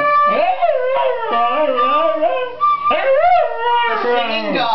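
A pet dog named Snoopy howls in long, wavering, sliding tones, several drawn-out rising and falling cries close by with brief breaks between them.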